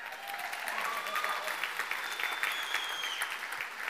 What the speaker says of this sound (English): You can clap for Mandy too if you just want to.